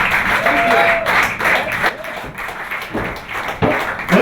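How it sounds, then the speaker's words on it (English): A comedy club audience applauds and cheers a stand-up comedian coming on stage in Brooklyn, steady loud clapping that dips and swells, with a voice speaking briefly over it. "Give it up for Brendan."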